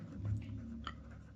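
Brief scratchy strokes of writing on a board while a math problem is worked through, faint and close, with a low hum behind.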